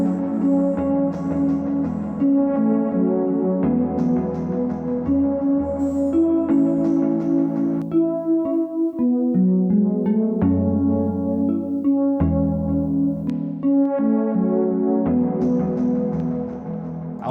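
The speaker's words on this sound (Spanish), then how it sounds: "la reverb incluso va a agarrar lo de los dos delays" A produced musical sound textured with two delays and automated reverb plays as layered melodic phrases with echoing tails and a low bass line, continuous and fairly loud with no voices.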